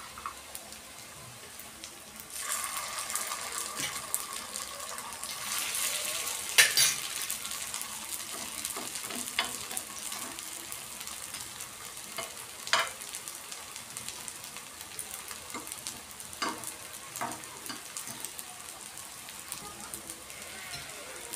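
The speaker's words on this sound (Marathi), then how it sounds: "जे आपले कोफ्ते इथं फ्राय झाले ते आपण इथं काढून घेऊया." Aloo kofta fry in hot oil, a faint steady sizzle in a kitchen broken by occasional clinks and scrapes of a utensil moving through the pan.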